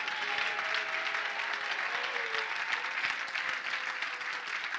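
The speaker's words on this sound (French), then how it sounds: "Acclame le Seigneur." A church congregation applauds steadily, a thick, even wash of many hands clapping that holds at a constant moderate level throughout.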